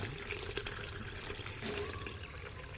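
Tap water runs steadily over leaves of the kumis kucing herb while they are washed. The splashing and trickling are continuous and close, but fairly quiet.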